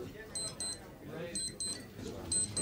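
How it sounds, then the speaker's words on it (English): A wristwatch alarm beeps in short, high double bursts at a steady rhythm, three pairs across the moment, ringing over indoor talk and background murmur. "The alarm. 8 o'clock. Dead on time. Switch it off"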